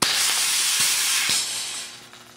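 Propane-charged airsoft gas blowback magazine, chilled and losing pressure, lets out a loud steady gas hiss that fades slightly toward the end, with faint clicks near the start.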